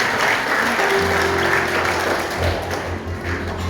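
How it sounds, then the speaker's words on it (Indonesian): A church congregation applauds loudly and continuously, a full, dense clapping sound with a sustained low keyboard or organ tone holding underneath. "kita tepuk tangan buat Tuhan"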